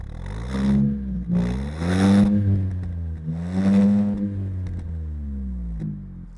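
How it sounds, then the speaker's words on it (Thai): Honda City hatchback 1.0 turbo from 2021 with an aftermarket exhaust, revved three times in quick succession, each rev rising and falling loudly nearby with a throaty tone, no talking. "แอบฟังท่อซิ่งเขาหน่อยไหม"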